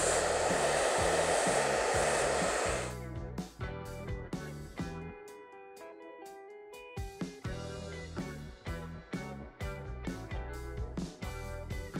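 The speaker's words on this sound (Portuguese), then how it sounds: "Então, depois de lavado, nós vamos agora secar esse cabelo." A hair dryer blows loudly and steadily at close range while hair is brushed dry, a constant whooshing hum for about three seconds before it gives way to music.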